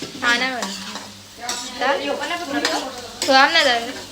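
Carrots and chillies frying together in oil in a home kitchen pan, stirred with a utensil that scrapes and clinks in bursts over a steady sizzle, loud and close with no talk.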